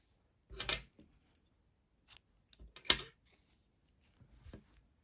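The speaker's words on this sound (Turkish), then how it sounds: "İpliği kesiyorum." Scissors snip crochet thread in a few quiet, close, separate cuts with pauses between them, and faint handling noises in the background.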